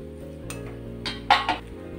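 A lid lifted off a pot of boiled pumpkin, giving a couple of light metallic clinks and a brief scrape near the end, close and clear over a quiet kitchen hum.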